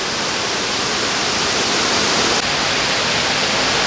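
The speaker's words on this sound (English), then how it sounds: "It looks to me like it's a natural waterfall" A natural waterfall beside a dam on a river in Ottawa pours in a steady, loud, unbroken broadband rush, with no voices.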